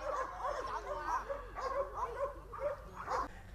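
Young dogs bark and yip in short repeated bursts at a training center's race, lively and fairly close, with whimpers between barks.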